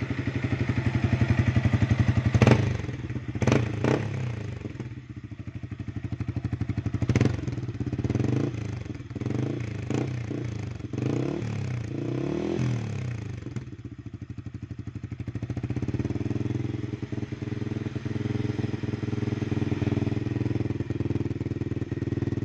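A Yamaha XSR 155 motorcycle with a Yoshimura R77 exhaust idles and is blipped in several sharp revs, a close, loud, clattery exhaust note rising and settling back to idle.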